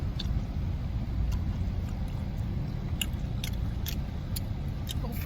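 A car being driven, heard from inside the cabin as a steady low road-and-engine rumble that holds evenly throughout, with a few faint light clicks and rattles above it.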